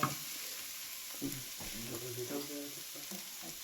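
Onions and spices sizzle steadily as they are sautéed in a pan for chicken kosa, with occasional clinks and scrapes from stirring. The frying sounds close and moderately loud, and no one speaks.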